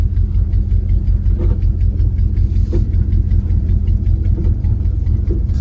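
A 1970 Jeep Wagoneer with an automatic transmission crawls slowly off-road in low range, its engine giving a steady, close, low rumble with a faint rhythmic knock and occasional clunks from the drivetrain.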